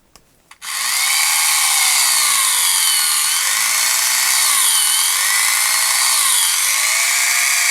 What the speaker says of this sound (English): So let's get drilling some holes.